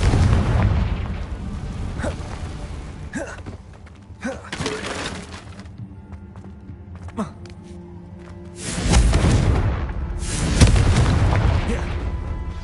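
A Confringo fire spell explodes in a Harry Potter video game, giving deep booms and bursts with shattering debris. A voice casts the spell over game sound effects, and the loudest blasts come near the end.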